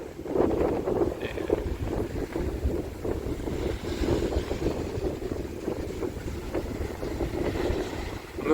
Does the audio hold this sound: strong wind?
yes